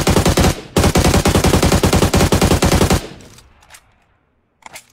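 Sustained automatic-weapon spray in the PUBG battle royale game, loud and close, a rapid unbroken stream of shots with one brief gap, then fading to near silence with a faint later shot.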